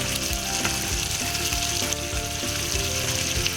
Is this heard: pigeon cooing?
no